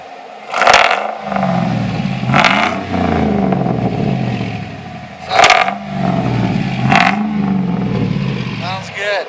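A 2007 Chevy pickup with an aftermarket exhaust revs repeatedly, loud and close, with several sharp throttle blips rising and falling over a deep rumbling idle, ending as it pulls away.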